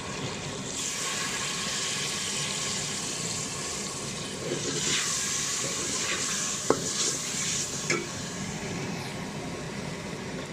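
Chicken keema cooks in a hot pan as a little water goes in, a steady hiss and sizzle with stirring scrapes and a sharp clink near the end, quiet and without speech.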